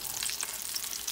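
Beef kebab pieces fry in a pan over a low-to-medium flame after being turned to the other side, giving a steady close sizzle with faint crackle throughout and no voices.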